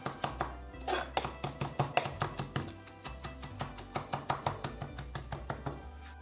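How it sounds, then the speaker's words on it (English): Kitchen knife chopping fresh herbs, chives and garlic together on a board, quick rhythmic taps in a steady run of about two dozen cuts, close and crisp. "Get hold of a kitchen knife and start chopping everything together"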